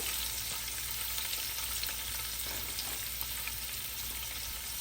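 A generous amount of sliced onion is frying in hot oil while cooking home-style Eid beef curry. A continuous, even hiss of sizzling fills the space with a few small crackles, close and without any talk.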